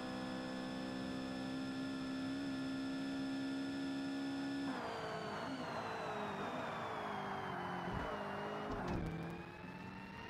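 A Ferrari's engine in the Forza Motorsport racing game, driving a circuit around New York, holds a loud, sustained, high-revving note that shifts pitch with gear changes, alone without talk.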